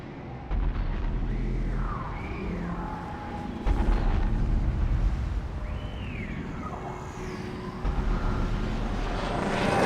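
A gunship in the video game Mass Effect 3 rumbles with a heavy engine drone beneath explosive, booming game audio, steady and loud with whooshing swells.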